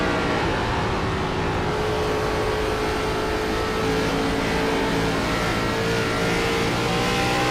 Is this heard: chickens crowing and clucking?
no